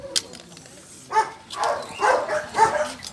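A dog gives a short yelp, then a few whimpering, breathy barks in quick succession, close by and moderately loud.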